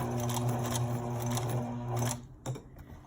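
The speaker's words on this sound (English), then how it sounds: "I'm going to try to stitch right up to that, but not past it for this section." A sewing machine stitches pants fabric with a fast, steady mechanical whir, close and fairly quiet, then stops abruptly, leaving a few faint clicks.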